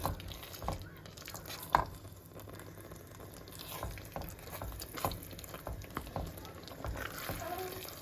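A stock cube being stirred into a simmering beef lasagne sauce in a pan, with soft bubbling, a low sizzle and occasional scraping clinks of the spoon, fairly quiet and steady.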